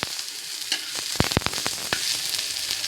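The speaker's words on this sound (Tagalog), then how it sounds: "Then isunod natin itong luya. Kaya ako konting ginisa guys kasi nga para mas mabango yung sinigang." Ginger sautéing in a pan for sinigang with bangus gives a close, steady sizzle, punctuated by several sharp clicks of a utensil scraping and stirring.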